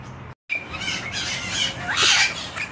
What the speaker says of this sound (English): Some very pretty looking birds here.